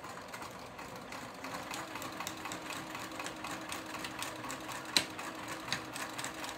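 Close by, a sewing machine stitches cow-print ribbon on a tutu, reinforcing the start of the seam with a backstitch; a soft, even mechanical hum runs throughout with a couple of sharper knocks toward the end.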